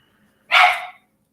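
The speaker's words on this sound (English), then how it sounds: "She's gonna start barking right away." A dog barks once, loud and close, a single sharp bark in an otherwise quiet room.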